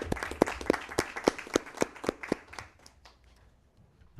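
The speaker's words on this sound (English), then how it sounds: "a thunderous round of applause for these amazing young people" A small group claps at a public school board meeting, with sharp distinct hand claps in a quick rhythm for about two and a half seconds before trailing off into quiet.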